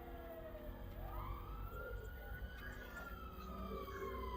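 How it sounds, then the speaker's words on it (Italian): A wailing emergency siren sweeps up and down in the GiggleLand game demo, faint and continuous beneath low rumbling ambience, with no voices over it. "C'è una sirena? Sì."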